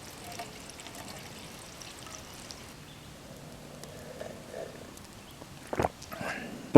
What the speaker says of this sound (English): Nice slow and steady pour with Bushcraft coffee.